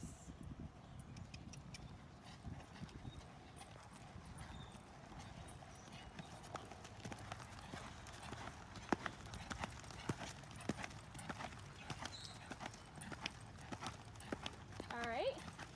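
A horse lopes around an arena, its hooves beating a steady rhythmic clip-clop at moderate distance, with an instructor's voice talking over the footfalls.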